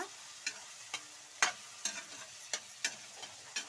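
Vegetable rice with garam masala powder being stirred in a pan, a spoon scraping in about eight regular, crisp strokes over a faint background sizzle, with no voices.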